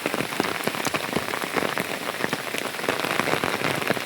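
Heavy rain pours steadily outdoors, a dense, continuous hiss of drops striking surfaces close by, with sharp individual splatters throughout and no voices.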